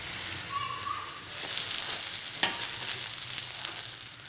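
A bread sandwich toasting in ghee on a pan while being pressed down, a steady close sizzle with occasional scraping clicks of a spatula and a brief tonal squeak, a voice talking over it.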